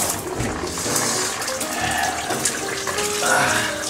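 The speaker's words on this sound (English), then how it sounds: "Oh, it's time to get a tub." Tap water runs steadily into a bathtub as it fills, a continuous close splashing rush with no talking over it.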